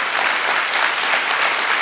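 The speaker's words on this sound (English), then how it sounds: "Can we give the class of 2022 a Northern Cape round of applause?" Audience applause for the class of 2022 at a Matric awards ceremony in the Northern Cape, steady dense clapping filling the whole stretch at an even, fairly loud level with no talk.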